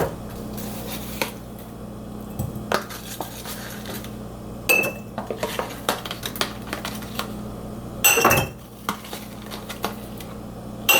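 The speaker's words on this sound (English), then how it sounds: "I have mason jars, so I'm gonna sort of like put batches into mason jars so they're portioned out for my lunch for the week" Glass mason jars clink and knock as cold, dairy-free cucumber melon soup with watermelon cubes is portioned into them. Scattered close taps build to one louder clatter near the end, over a faint steady room hum.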